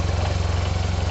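A Yamaha TMAX 500 motorcycle idles close by, its engine throbbing in a steady, even low rumble with regular pulses and no talk.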